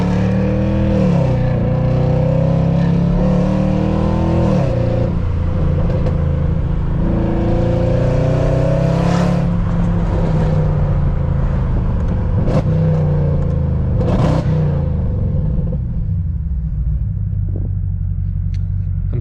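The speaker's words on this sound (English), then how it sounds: "I'm just gonna drive it." A Mercedes C63 AMG Black Series with full track package cruising on public roads, its engine rumbling loud and steady throughout with several rising and falling revs as it shifts and accelerates, heard up close without talk.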